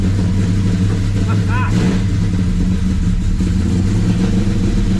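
A 1968 Dodge Charger with a straight-six engine, its carburetor freshly primed, turns over and catches, running with a steady low rumble up close while a brief excited voice cuts in.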